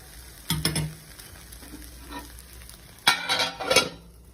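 Handvo, a savory Gujarati batter cake made with bottle gourd, frying in a pan as it is flipped and covered, with short bursts of sizzling and utensil scraping separated by quieter gaps.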